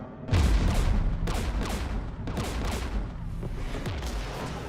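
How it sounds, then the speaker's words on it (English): Heavy incoming gunfire in the Mass Effect Legendary Edition video game, a loud, continuous barrage of overlapping shots and booms with rhythmic bursts roughly every second, close and dense with no talk. "We're taking fire."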